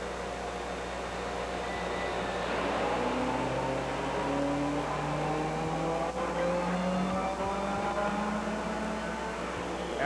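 A Winston Cup stock car engine runs for a brake-test simulation, a steady, fairly quiet drone with slowly rising and falling tones throughout.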